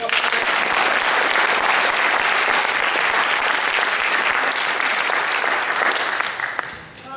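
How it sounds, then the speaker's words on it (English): Applause from a concert audience after a Carnatic classical music performance in Tasmania, a dense, steady clapping that holds loudly for several seconds before tapering off at the end. "Another round of applause."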